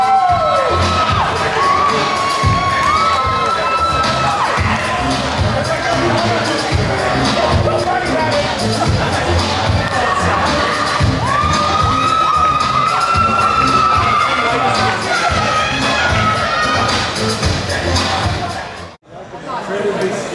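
A crowd at a sci-fi convention in Ebensburg, Pennsylvania cheers, whoops and claps loudly and continuously, with children shouting and chatter mixed in, before the noise dips briefly near the end.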